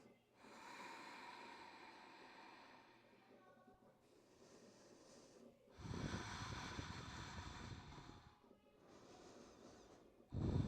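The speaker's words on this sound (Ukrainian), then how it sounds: "дихаєте три цикли дихання" Slow, audible breaths during a seated yoga twist for the lower back, with long inhales and exhales rising and falling in steady cycles, close to the mic, no talk.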